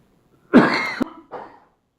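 A single harsh cough followed by a shorter second cough, close and loud, with silence before and after.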